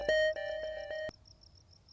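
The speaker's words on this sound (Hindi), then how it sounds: "अब किसका फोन आ गया?" A phone ringing in a Pakistani drama: a bright electronic ringtone plays a short repeated melodic pattern, then cuts off abruptly, leaving a faint lingering tone.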